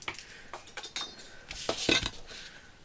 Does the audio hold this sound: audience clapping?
no